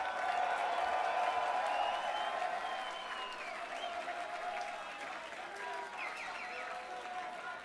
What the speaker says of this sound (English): one more round of applause. Give it up for all the solo battlers.